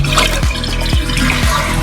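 A repaired toilet flushes close by, with a loud rush of water, gurgling and repeated sloshing pulses as the tank drains and refills.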